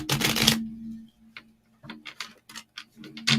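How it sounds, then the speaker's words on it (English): Tarot cards are shuffled by hand, a burst of riffling followed by a series of soft, irregular taps and flicks as the cards settle, close and fairly quiet over a faint steady hum. "I'm going to start shuffling again."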